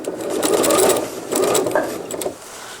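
A sewing machine stitches cotton diaper fabric in two fast whirring bursts separated by a brief slowdown, close and steady, with no talking.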